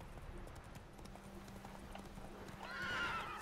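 Horse hooves clip-clopping in The Witcher 3 video game, a steady trot under faint game ambience, followed near the end by a loud, close whinny.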